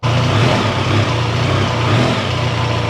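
A BMW R 1300 GS motorcycle engine in rain riding mode runs loud and close, a steady throbbing drone with a slight swell of revs, heard alone with no talk.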